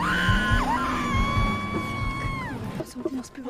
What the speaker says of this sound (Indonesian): Lara yang panik mencoba teriak